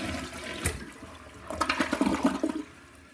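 Newly replaced toilet flushing: a close, rushing gush of water swells and swirls for about a second before draining away, with no voices.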